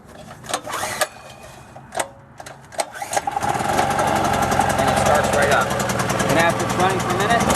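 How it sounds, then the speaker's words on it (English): A small, quiet portable generator is started with the choke on, sputtering through a few pulls before catching and settling into a steady, close, even running drone, with a voice speaking over the first moments. "Nice, quiet generator, works just fine."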